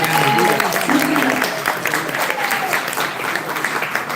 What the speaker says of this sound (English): One more round of applause for our founder.